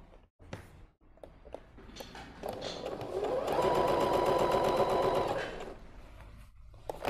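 A sewing machine stitches fabric for a ruffled pareo, starting with short bursts, then running steadily at a rapid even rhythm for a few seconds before slowing and stopping, close and clear with no talk.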